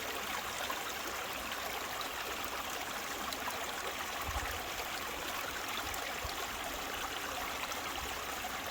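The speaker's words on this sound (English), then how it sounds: "I'm only in a little stream and that water's trying to ride over the edges" Small stream water pours steadily through a GEOSLUICE Californian mini sluice, a continuous broadband rush and trickle that holds even and close throughout, with no voices.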